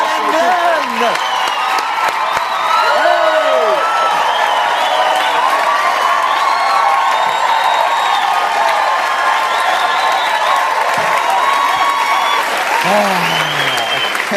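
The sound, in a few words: audience applauding and cheering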